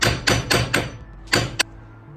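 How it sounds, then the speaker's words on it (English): A hammer taps a suspension part near the camber plate on a Datsun 510: four quick, evenly spaced metallic knocks, a short pause, then two more sharp hits, close and loud. "with a hammer, just give it a little tap"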